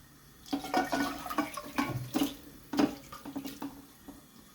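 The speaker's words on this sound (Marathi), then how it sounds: "आता त्याच्यात मी ही भाजी आहे, ही जी रुशीची भाजी आहे ती पाण्यासकट त्याच्यात टाकणार आहे" Vegetables in their water are poured into a pot on a gas stove for Goan Saraswat khatkhate, with a series of uneven, fairly close splashes and gushes that come and go in bursts.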